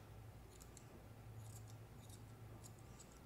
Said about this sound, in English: sometimes we gotta get it with scissors